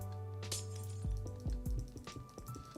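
Glass blocks placed one after another in Minecraft while building a flying machine for a bamboo farm, giving several short, close clinking taps over a steady background hum.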